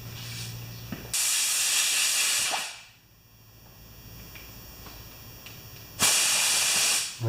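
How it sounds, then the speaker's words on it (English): Compressed air blown through a hose on a Homelite 20-inch mower engine, loud hissing bursts lasting about a second and a half each, separated by a quieter gap, close up with no talking. "I'm just going to take this hose off here and blow a little air through here"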